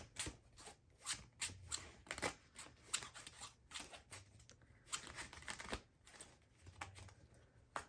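Tarot cards shuffle and riffle in soft, irregular bursts, close and quiet, with papery flicks and slaps.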